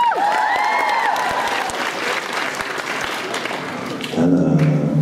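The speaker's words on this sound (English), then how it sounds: "Let's use a round of applause" Fan convention panel audience bursts into sustained applause with a few cheers, a dense crowd clapping close and loud, then a voice takes over near the end.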